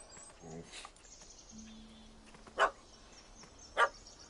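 In a PS4 video game, a dog gives two sharp, distinct barks over quiet ambient game sound, with a short burst of speech and a faint tone between them.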